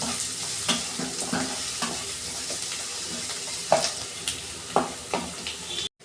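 Onions fry in a generous amount of oil for egg tadka, a soft continuous sizzle broken by repeated scraping stirs of a spatula, close and clear with no talking.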